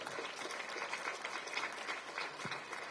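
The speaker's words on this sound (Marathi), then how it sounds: "जोरात टाळ्या वाजवा." A crowd at a Shiv Sena–MNS party workers' rally applauds, sustained dense clapping at a moderate distance, fairly faint but steady for the whole stretch.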